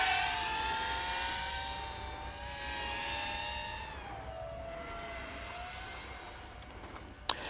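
A DJI FPV drone flying in full manual mode gives a high, whining propeller buzz that rises and falls in pitch as it maneuvers, fairly loud and steady, with no voices.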